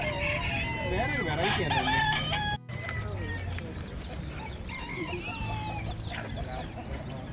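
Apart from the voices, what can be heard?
rooster crowing at an animal market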